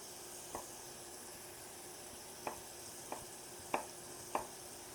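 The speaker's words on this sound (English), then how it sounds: "I'm just going to keep sauteing this for a little while" Cubes of sausage sauté quietly in a pan under a soft, continuous sizzle, with five sharp clicks of a utensil against the pan spaced irregularly; faint and close, no talking.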